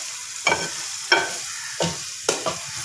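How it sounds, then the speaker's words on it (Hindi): Hot baghar of oil, cumin, green and red chillies hits cooked moong dal in four sharp hissing bursts, each sizzle flaring up loudly and then quickly fading. "इस भगार को डाल देंगे।"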